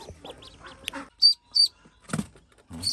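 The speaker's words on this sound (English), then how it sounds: "These are ducks. They're not chickens." Ducks on a farm give a few scattered quacks, with two sharp, loud calls standing out and softer chatter between them, fairly close by.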